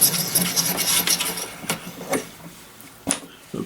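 Brass cartridge cases are trimmed to length on a reloading case trimmer, giving short scraping, rasping strokes in uneven bursts with quiet gaps between them.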